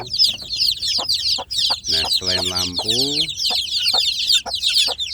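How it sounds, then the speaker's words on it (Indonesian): Free-range village hens cluck and newly hatched chicks peep in a busy, continuous chatter, with a longer drawn-out hen call in the middle and a voice speaking briefly over it. "anak ayam kampung saya ini juga saya gabungkan dengan induknya ya"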